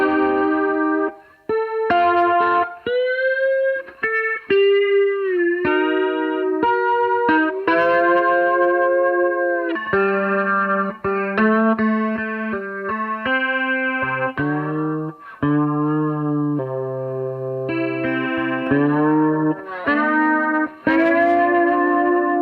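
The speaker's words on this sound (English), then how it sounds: "Then the chorus just thickens things up a little bit." A steel guitar plays sliding, sustained notes through a chorus pedal, giving a thick, shimmering tone, with a loud, clean phrase that gently swells and decays, heard alone.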